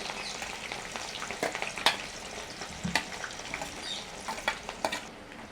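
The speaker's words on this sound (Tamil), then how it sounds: "வெண்டைக்காய் கறிக்கு வந்து நாங்கள் வெங்காயம் பொரிச்சு கொள்ளுவோம். அதோட உள்ளியும் சேர்க்கிறேன்." Onions and garlic frying in a pan for an okra curry make a steady close sizzle, with scattered crackles and pops through it.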